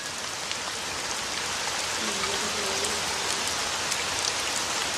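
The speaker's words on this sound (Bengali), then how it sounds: "ব্যালকনিতে দাঁড়িয়ে দাঁড়িয়ে এরকম বৃষ্টি দেখলে কতই না ভালো লাগে" Steady rain falls outside a balcony, a dense, even hiss of drops on surfaces that holds at a constant level throughout with no voices.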